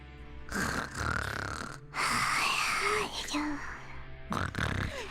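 Paimon from the Genshin Impact game snores in drawn-out, wheezy breaths broken by short pauses, with little squeaky vocal sounds mixed in, close and fairly loud.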